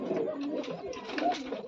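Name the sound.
domestic pigeons cooing at night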